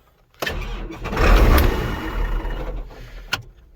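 A Case IH 8930 Magnum tractor's engine cranks and catches, swelling into a loud rough rumble that settles toward idle, with a sharp clank near the end.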